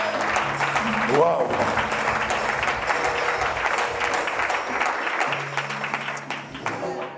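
A church congregation at an Easter service applauds loudly and steadily for about seven seconds, with cheering voices over the clapping and a man's exclamation near the start.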